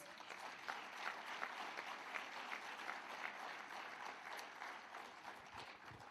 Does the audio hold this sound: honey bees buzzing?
no